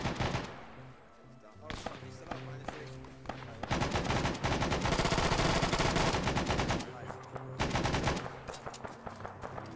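Gunfire in Arma 3 set in the Vietnam War: rapid automatic bursts and clattering volleys, some distant and some closer, rising into sustained fire through the middle.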